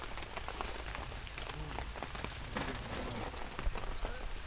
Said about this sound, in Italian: Se almeno smettesse di piovere un po'.